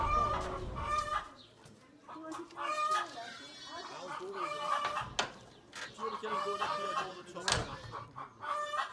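A chicken clucks repeatedly on a farm, with short bursts of fowl calls that rise and fall over several seconds. Outdoor background noise and some voices mix in underneath.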